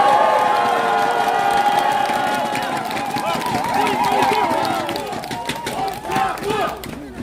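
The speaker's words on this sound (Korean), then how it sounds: "환영의 박수!" An outdoor crowd at Wonju Central Market welcomes Lee Jae-myung at a 2024 election campaign rally with clapping, cheering and shouting. A loud amplified voice carries over the crowd noise, and the clamour swells and fades in uneven waves.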